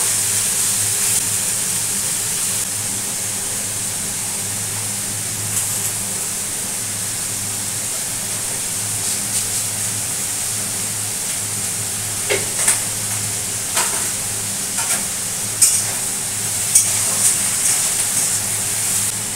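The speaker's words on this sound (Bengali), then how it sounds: "আর দিয়ে দিচ্ছি হচ্ছে 5 ফোড়ন। দিয়ে দিলাম চেরা কাঁচা লঙ্কা," Panch phoron five-spice and slit green chillies fry in hot oil with a loud, steady, close sizzle, broken near the end by scattered crackles and pops.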